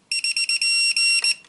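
Several short electronic beeps from a Team Magic B8ER RC transmitter's steering dual-rate control, a quick series of tonal pulses followed by a longer sustained tone, loud and close, with no talking.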